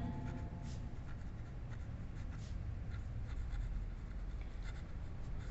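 Chalk or marker strokes on a board during a lecture on ciphertext-only attacks, a steady continuous scratching and tapping that runs unbroken through the whole stretch with no voice over it.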